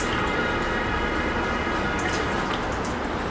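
A treatment towel is soaked in a basin of water for a tepid sponge bath, giving a continuous close wet sloshing and dripping with no talking.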